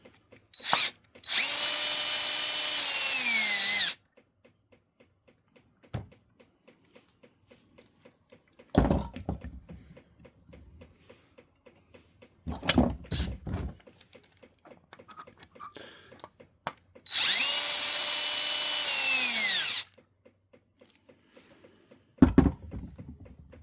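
Power drill backing screws out of a Mini Kraton RC car, two loud whirring bursts of about three seconds each, separated by quieter clicks and handling knocks of parts.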